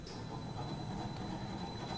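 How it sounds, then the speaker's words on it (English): The oil pump of a turbocompressor runs with a faint, steady mechanical hum and low rumble, continuous and distant-sounding with no voices over it. "What you hear is the oil pump running."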